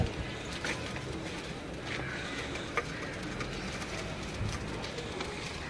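A flock of blue Kamgar pigeons standing together coos softly and intermittently over a constant low background hum, heard from a short distance.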